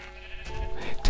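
Sheep bleating in the Minecraft video game, a single short bleat that swells loudly at the very end over quiet game background.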